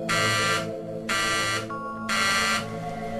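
A klaxon alarm rigged beside a safe in a vault chamber blares in three loud, harsh buzzing bursts of about half a second each, separated by short gaps, over a steady ringing bell underneath.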